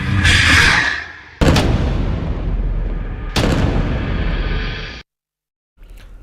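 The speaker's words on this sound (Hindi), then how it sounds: "हमास की ईज अल दीन अल कसम ब्रिगेड ने दावा किया है कि उसने इजरायली बख्तरबंद वाहनों के काफिले पर हमला करके उन्हें तबाह कर दिया है" Heavy gunfire and booming explosions from an attack on an armored vehicle convoy: loud, close blasts that cut in abruptly, each followed by a long roaring decay, then a brief silence before another burst starts.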